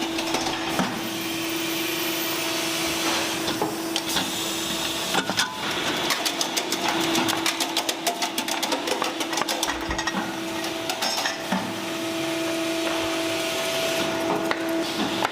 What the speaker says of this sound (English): The radish is peeled in the machine, and workers remove any remaining skin.